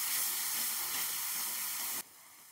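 Chicken sizzles and hisses loudly in a hot pan as a chili-powder paste is fried with it for a Bengali laal kosha biryani. The steady close frying noise stops abruptly near the end, leaving a quieter hiss.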